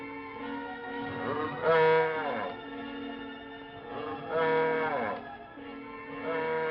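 Cattle moo in a western frontier setting, with two long, drawn-out lowing calls rising and falling against a faint background murmur of more cattle.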